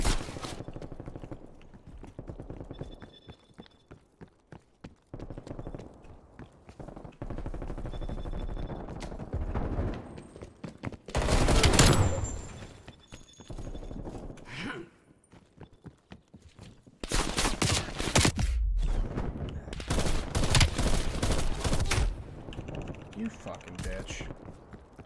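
Bursts of gunfire from the video game Call of Duty Cold War, in a Gun Game match, crackle in rapid volleys with dense loud stretches near the end, mixed with game footstep sounds and shouted talk.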